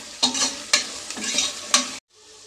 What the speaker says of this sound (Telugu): ఇవన్నీ మగ్గిన తర్వాత సరిపడినంత కారం కూడా వేసుకొని బాగా ఒకసారి కలుపుకోవాలండి.